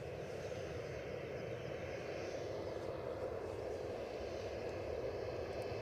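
A Ryanair jet departing Edinburgh Airport for Porto, heard as a constant, distant engine roar with a broad rumbling hiss, steady and unbroken, with no voices over it.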